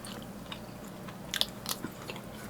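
Biting into and chewing tender steak with crunchy peppers, quiet close-up crunches and soft mouth sounds in a few irregular bursts.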